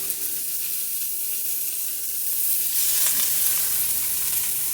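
Chopped young mango leaves, squeezed of water, frying with potato in a pan give a steady, close hissing sizzle that swells slightly, with no talking.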